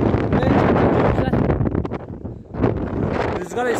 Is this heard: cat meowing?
no